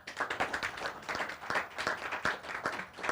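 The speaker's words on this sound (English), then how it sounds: "please give a big round of applause for our sponsors" Audience at an SPE Thailand monthly technical meeting applauding its sponsors: dense, steady clapping from many hands that fills the whole stretch at a fairly close, even level.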